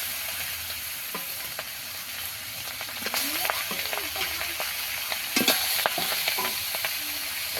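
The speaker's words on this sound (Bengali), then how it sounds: "বাকি মাছগুলো একইভাবে ভেজে নেব।" Tengra fish sizzles and crackles in hot oil with a steady frying hiss, broken by sharper clinks and scrapes as the pieces are stirred and turned.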